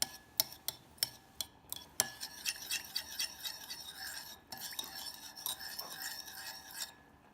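A spoon scrapes and clinks against a glass bowl while stirring a small sauce of tamari, sesame oil, rice seasoning and sambal oelek, sharp regular taps at first, then quicker rubbing strokes.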